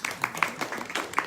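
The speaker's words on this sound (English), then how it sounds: "Let's give him a big applause." Audience applause after a japa chanting demonstration, a brief patter of several hands clapping at moderate level, with faint room noise around it.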